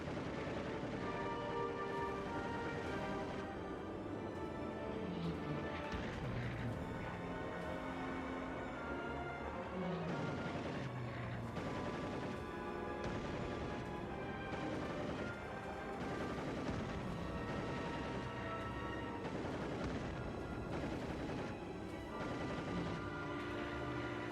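World War II P-47 Thunderbolt fighter-bombers strafe a train's boxcars with machine guns, rapid bursts of heavy gunfire and booming impacts rolling on continuously over a loud, dense wash.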